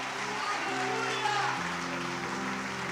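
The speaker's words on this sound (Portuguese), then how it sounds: "aplauda como crente, glorificando o céu." A church congregation claps and cheers together in steady, dense applause through the whole stretch, with music playing underneath and voices mixed into the crowd noise.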